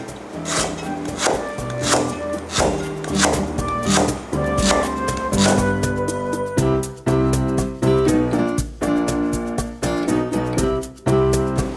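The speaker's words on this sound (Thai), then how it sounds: "เราก็จะต้องมาซอยตะไคร้ก่อนนะคะ" Lemongrass is sliced finely with a sharp knife for Thai herb-and-chili fried chicken: quick, even chops tap on a board in a steady run, then give way to background music.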